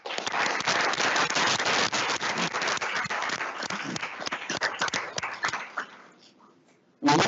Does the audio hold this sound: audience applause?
yes